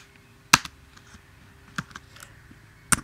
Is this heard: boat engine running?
no